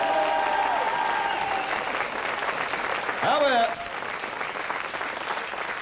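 A French TV studio audience applauds a singer with sustained crowd clapping, a brief musical flourish, and a voice speaking over it.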